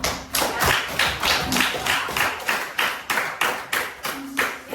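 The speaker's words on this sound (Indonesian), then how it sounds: "Oke, kita kasih aplaus dulu." Audience applause in a school or class setting: continuous clapping from a group, fairly close and steady with rhythmic swells, with no talk over it.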